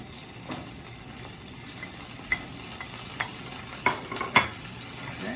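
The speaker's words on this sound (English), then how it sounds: "we're going to cook the onions with the extra virgin" Onions sizzle in extra virgin olive oil flavoured with garlic in a pan, a steady close hiss with occasional sharper clicks and scrapes of stirring.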